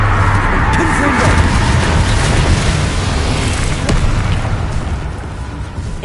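Repeated spell blasts from the Confringo fire spell in Hogwarts Legacy boom continuously, loud and dense, forming a sustained roar of explosions with no clear gaps.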